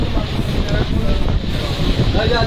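High-tide sea waves surge and wash steadily along Digha beach, a loud, continuous rushing roar close by, with heavy wind buffeting the microphone and no clear talking.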